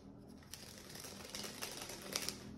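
Playing cards cascade in a flourish, a soft rapid patter of flicking cards that builds into denser crisp clicks toward the end, close and quiet.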